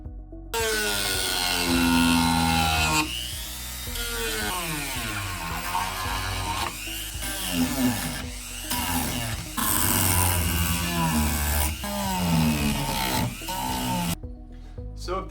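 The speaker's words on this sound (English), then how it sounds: "I just kind of clear it out with the rotary sander" A rotary sander grinds out a crack in a 3D-printed part, its whine rising and falling in pitch as the load changes. The sound is continuous, close and loud for about fourteen seconds with no talk.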